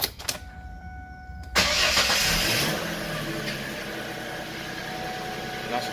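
A car engine starts up in a video game after a short pause, the starter catching into a loud burst that settles into a steady idle, with no speech.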